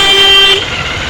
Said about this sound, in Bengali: হালকা পাতলা গাড়ি চলছে